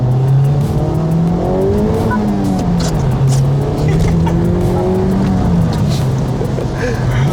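A 2023 Honda Civic Type R with a turbocharged 2.0-litre K20C1 four-cylinder pulls hard in comfort mode, its engine note rising and shifting through gears, loud and steady from inside the car.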